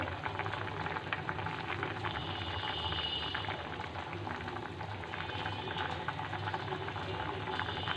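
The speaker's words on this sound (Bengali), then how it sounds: "আজকে আমি এখানে মাগুর মাছ ভুনা করতেছি" Catfish (magur) curry simmering in a pan as a bhuna, a dense, continuous bubbling and sputtering close by, steady throughout without speech.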